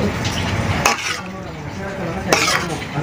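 Cimol, Indonesian tapioca snack balls, frying in a pan of oil: a steady sizzle with a couple of sharp utensil scrapes from stirring, while people talk nearby.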